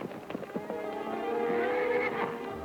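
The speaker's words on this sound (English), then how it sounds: "What black horse is that? Wild stallion." Wild black stallion neighing in a long, shrill whinny close by, preceded by a few brief snorts and hoof sounds, with no talk over it.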